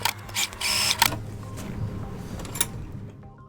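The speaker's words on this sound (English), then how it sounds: "Now, sew all the way around the edge." A sewing machine stitches around the pinned edge of a homemade pillow, giving short, close mechanical whirring bursts that start and stop over a few seconds.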